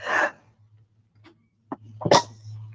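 A sharp, explosive sneeze bursts out, followed by a quiet pause with faint hum and then a second short, breathy burst.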